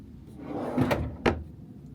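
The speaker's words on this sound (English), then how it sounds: "And then the fridge, it's a drawer." A small drawer fridge in a Disney Treasure cruise ship deluxe oceanview stateroom slides and shuts. A soft rolling glide is followed by two close, sharp thuds about half a second apart.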